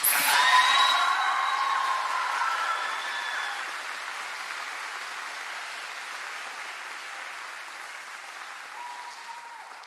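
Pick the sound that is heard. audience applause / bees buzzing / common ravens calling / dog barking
audience applause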